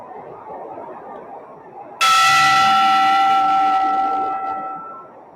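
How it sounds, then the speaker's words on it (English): At the end of a round in the Basilio versus Robinson boxing match, a bell rings once loudly and rings on over a murmuring arena crowd, then slowly fades. "Oh, the bell saves Basilio."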